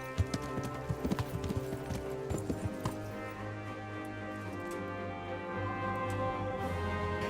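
Quick, rhythmic horse hoof clip-clops in the video game Kingdom Come: Deliverance over a steady droning background, stopping partway through while the hum carries on.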